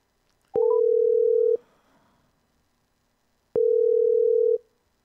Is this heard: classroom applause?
no